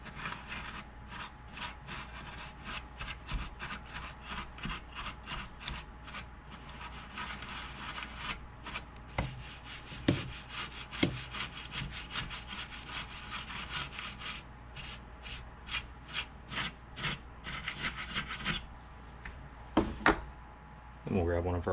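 A paintbrush sweeps dust out of a DBX 15-inch subwoofer, producing repeated quick, scratchy bristle strokes close up in an uneven rhythm, with a few louder knocks near the end.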